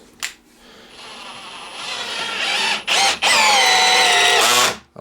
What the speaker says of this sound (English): So on 18, that's the highest you can go on the clutch, at least with this drill that I have.